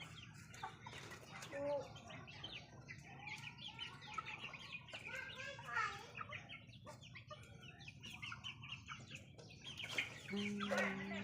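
Chickens cluck and chirp close by in a busy, irregular chatter, with a faint low hum underneath.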